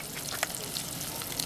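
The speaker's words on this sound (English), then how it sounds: "we've got 2 absolutely yummy fish fingers frying away" Tudor-style fish fingers fry in a pan, a steady crackling sizzle with scattered pops and spits, close and moderately loud.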